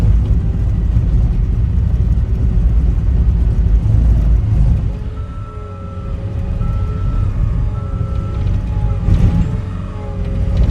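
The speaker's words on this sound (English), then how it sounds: "Definitely got some rattling going on." A new CAT 249D3 compact track loader plows snow over icy ground, its engine droning steadily and loud throughout, with a faint mechanical rattle carried in the continuous rumble.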